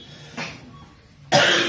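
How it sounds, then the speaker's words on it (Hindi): A person coughs twice in an office setting: a softer short cough, then a loud, harsh burst close to the microphone after a brief quiet pause. "खांस क्यों रहे हो"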